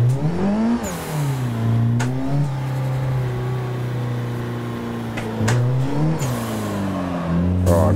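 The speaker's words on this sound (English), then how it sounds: "This car definitely has some turbo lag. So that's gonna be tricky to get used to also, because as soon as I floor it, it takes a while for the boost to kick in." A turbocharged race car in the Assetto Corsa driving game revs and accelerates through several gears, its engine note rising steadily and dropping at each shift, loud and close throughout.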